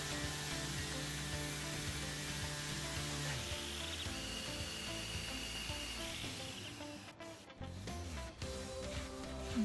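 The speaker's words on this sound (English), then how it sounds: "We're just gonna sand down that wood filler so it's ready for paint." Wood filler being hand-sanded on a Drexel dresser before painting, a steady rough scraping hiss that runs continuously at moderate loudness and thins out near the end.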